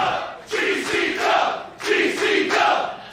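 A wrestling crowd roars after a high-flying move, two big surges of cheering and chanting with a short dip between them.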